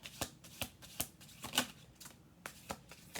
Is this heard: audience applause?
no